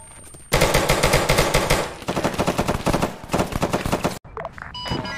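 Rapid sustained automatic fire from an AC-130 gunship in the military shooter Arma 3, loud and continuous bursts of dense repeating shots with a short break, then scattered distant pops.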